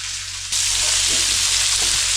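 Corn kernels dropped into hot oil in a pan burst into a loud, steady sizzle after a half-second of quieter hiss, with crackling continuing close by.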